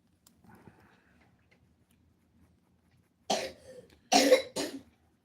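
A person coughing: three sharp, close coughs in quick succession after a near-silent stretch with faint rustling.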